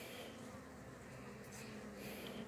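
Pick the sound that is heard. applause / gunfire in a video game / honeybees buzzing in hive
honeybees buzzing in hive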